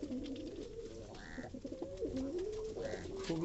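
Pigeons coo outside on a hot day, two soft rising-and-falling calls close by over faint background noise.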